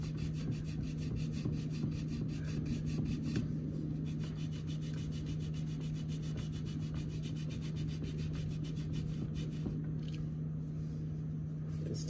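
Towel wiping masking-tape residue off a fishing rod, a continuous close rubbing swish made of fast, fine strokes over a steady low background hum.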